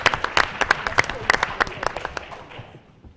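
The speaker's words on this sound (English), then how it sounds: "So let's give them a round of applause." Audience applause at a high school academic awards evening, a burst of sharp claps from a moderate crowd that thins and fades out over about three seconds.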